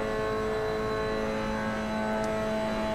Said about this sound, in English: So revving the heck out of the poor little engine